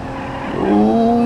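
A car in the driving game BeamNG.Drive, its engine rising in pitch as it accelerates, a loud steady revving tone building over about a second with no talk.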